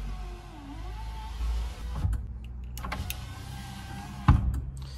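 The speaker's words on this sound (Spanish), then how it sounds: "ahí tenemos para bajar el vidrio del lado del acompañante" Passenger-side power window on a Fiat 147 lowering with one touch: a steady whirring motor run that ends in a clunk as the glass stops, heard close inside the car.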